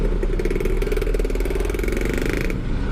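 A Honda Vario 160 scooter is ridden along a road. Its engine gives a steady, close drone with a buzzing pulse and low wind rumble throughout, loud and unbroken.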